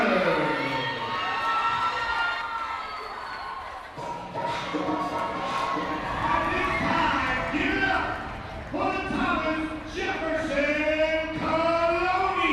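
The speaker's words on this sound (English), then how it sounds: "a big cheering reaction from the crowd" Crowd at a competitive cheer semifinal erupts in loud cheering, shouting and screaming, with an announcer's voice speaking over the noise as the excitement rises and falls.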